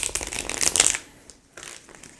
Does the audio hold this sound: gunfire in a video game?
no